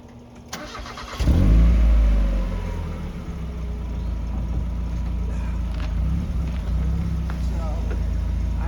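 A car engine cranks and catches with a loud burst, then settles into a steady low idle rumble that continues to the end.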